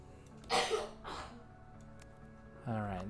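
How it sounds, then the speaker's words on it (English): A child coughs twice in quick succession, fairly close and moderately loud, followed by a short vocal sound near the end. "that's a coughing kiddo"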